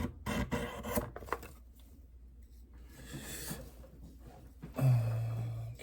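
A knife blade drawn across the ceramic rods of a Spyderco Tri-Angle Sharpmaker, a few soft rasping strokes close by, faint and quiet with brief pauses between them.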